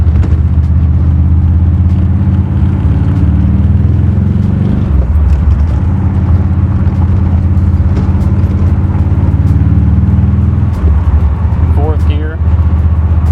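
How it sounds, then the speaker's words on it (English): A 1932 Ford roadster driving in fourth gear at about 45 miles an hour on an outer road, its engine droning steadily at low pitch with wind noise while someone talks over it. "Really don't need much more than the fourth gear on this outer road. Doing about 45 miles an hour."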